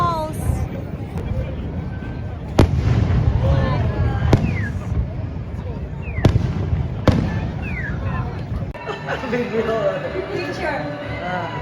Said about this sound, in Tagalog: Fireworks in Niagara Falls.